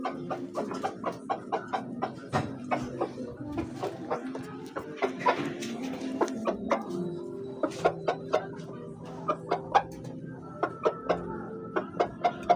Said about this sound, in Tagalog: Bakit gumaganyan ng manok pag kumakain? Yung tandang.